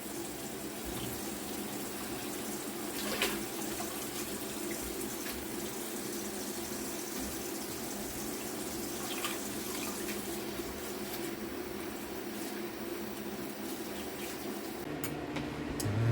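Tap water runs steadily into a sink as mustard greens are washed, a continuous close splashing rush with occasional clinks and shifts, and no talking.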